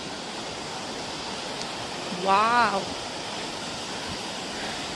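A strong river rushing through the valley near Jibhi village, a continuous broadband roar throughout, with a brief exclaiming voice in the middle.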